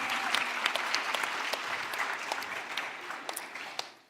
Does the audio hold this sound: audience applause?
yes